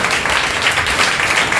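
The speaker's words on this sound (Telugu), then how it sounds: "ఒకసారి గట్టిగా చప్పట్లు కొడుతూ ప్రభుని కనపడుతామా?" Church congregation clapping loudly and hard in unison, a dense continuous burst of many hands filling the room, with a faint voice underneath.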